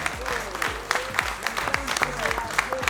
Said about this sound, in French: je voudrais aussi qu'on applaudisse nos deux présentateurs